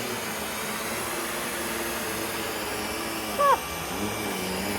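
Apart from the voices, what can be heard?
UWANT V500 vacuum cleaner running on carpet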